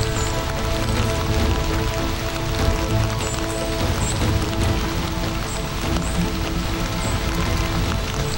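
Heavy rain pours steadily in a forest at a hunting tree stand, a dense continuous hiss and patter close by with no voices.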